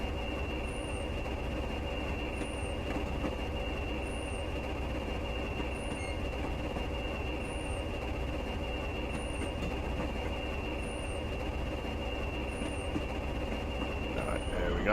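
A Class 20 diesel locomotive in Train Simulator Classic drones steadily with a constant engine hum and rolling wagon noise on the Stranraer Harbour to Dumfries line, with faint periodic clicks over the top.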